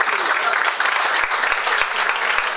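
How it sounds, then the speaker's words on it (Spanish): Steady crowd applause greets boxers at a weigh-in, dense continuous clapping filling the room with a few louder individual claps near the front. "Pero el primer aplauso es para ellos"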